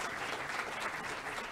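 Brief, steady applause from an audience at a university graduation celebration for College of Education graduates, a soft continuous patter of many hands.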